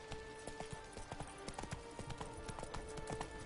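Roach, Geralt's horse in The Witcher 3, gallops with a quick, steady clip-clop of hooves, fairly faint and continuous, under a faint background hum.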